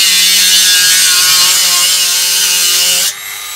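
Dremel rotary tool cutting through a thick plastic VCR case, a loud continuous high-pitched grinding whine that holds steady for about three seconds before cutting off abruptly.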